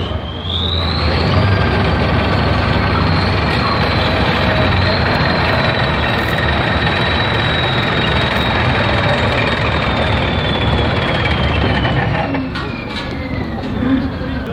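A French wheeled military vehicle's engine runs loud and steady at close range, a continuous low rumble with a rising whine near the start, holding level throughout before easing slightly toward the end.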